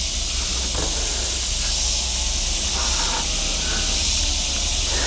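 Shrimp and pineapple skewers on a grill give off a steady, loud broadband sizzle and hiss that runs unbroken throughout, with no one speaking.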